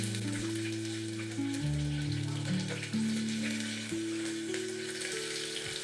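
Onion, curry leaves and chillies frying in a pan give a steady, close sizzle that stays even throughout, with a faint crackle and no talk over it.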